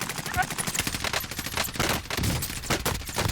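Rapid automatic gunfire from a Call of Duty Black Ops Cold War / Warzone match with tracer rounds, dense overlapping bursts of shots filling the whole stretch, loud and close.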